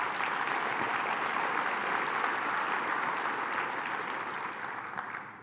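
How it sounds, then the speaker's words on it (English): Audience at a State of the City address claps steadily and evenly for several seconds, a moderately loud wash of applause that tapers slightly at the end. "Yeah, you can clap for that."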